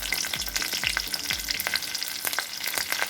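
Four green chillies sizzle and crackle in hot oil alongside dried chillies and nigella seeds on a lowered gas flame, a steady close frying hiss with occasional stirring scrapes.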